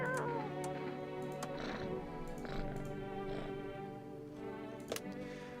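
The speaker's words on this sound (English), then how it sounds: "I'm petting a cat." Cat being petted in a quirky video game, its sound effects of soft meows and purring layered over a busy game soundtrack with ticking clicks and tonal music throughout.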